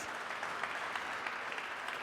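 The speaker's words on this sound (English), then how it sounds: "Let's give him a round of applause." A hall audience at a European startup prize ceremony for mobility claps for a presenter, giving steady, even applause throughout with no voices above it.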